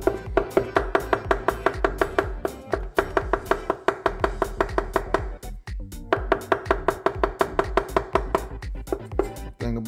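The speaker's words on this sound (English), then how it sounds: "So now that I got my cilantro picked, I'm gonna go ahead and chop it up." Fresh cilantro chopped with a knife on a board for Miami-style conch salad, a fast, steady run of crisp close-up taps in long rhythmic bursts with brief pauses; no talking.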